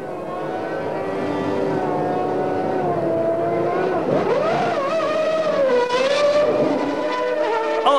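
Formula One race cars at a Grand Prix, including Nigel Mansell's Ferrari, make a loud, continuous high-pitched engine whine whose pitch rises and falls as the cars pass.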